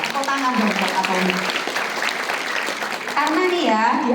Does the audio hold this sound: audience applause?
yes